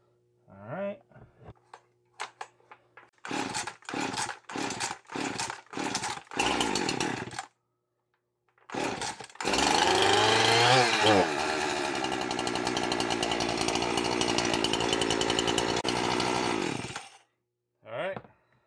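Two chainsaws, a Husqvarna 346XP and a Poulan Wild Thing, are started: several short pull-start bursts and brief revs, then one saw roars steadily at high rpm for about eight seconds, loud and close, before cutting off.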